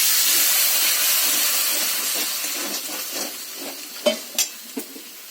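Water poured into a hot pan of cumin and chili powder erupts in a loud steamy hiss and sizzle that slowly fades, followed by a few sharp clinks of a utensil against the pan.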